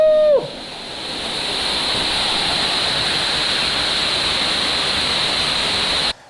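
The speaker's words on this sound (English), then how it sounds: "It's a nice little waterfall!" A waterfall in a canyon gorge in Martinique roars with a steady, loud, broadband rush that fills the scene. A brief voiced whoop sounds at the very start, then only the continuous cascade.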